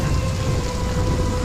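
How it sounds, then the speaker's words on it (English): Heavy rain pours down in a thunderstorm, a dense, steady roar of rainfall with deep rumbling underneath, loud and continuous with no voices. "It's just a storm. It'll pass like it always does."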